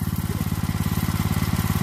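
A mini bike fitted with a 212cc BILT HARD 7HP engine runs close by, its rapid, even exhaust pulses thumping in a steady loud idle-like rhythm.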